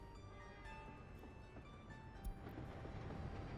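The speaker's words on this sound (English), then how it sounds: "We have our first run through of the train for the first time in this series." A train rolls along rails in the city-building game Workers & Resources: Soviet Republic, giving a steady, dense rumble with a faint clatter throughout and one brief knock near the end.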